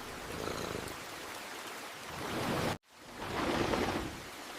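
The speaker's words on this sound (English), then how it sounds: "What a peaceful rainy morning." Steady rain falls on a quiet countryside morning, a soft, even hiss that fills the scene, cuts out briefly near the middle, then returns just as full.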